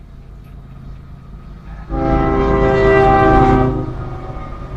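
A train passes close by and sounds its horn: a loud, sustained multi-tone blast starts partway through over rumbling wheels, holds for a couple of seconds, then fades while the rolling noise continues.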